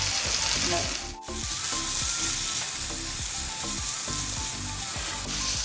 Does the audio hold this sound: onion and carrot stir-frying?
yes